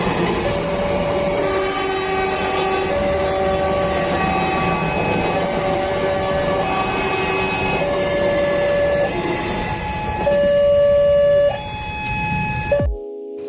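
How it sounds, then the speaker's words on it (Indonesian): A train rolls along a railway track beside a roadside eating spot, with a steady loud rumble and clatter of wagons and sustained horn-like tones throughout, ending abruptly. "makan di pinggir rel kereta api sambil lihat kereta api"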